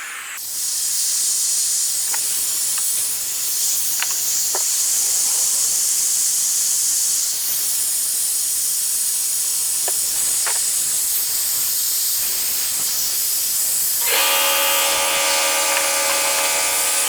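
Air hisses steadily from a Toyota Tundra's power steering system during a fluid flush, a loud continuous spray-like hiss with a few faint clicks, shifting to a harsher, more tonal hiss near the end.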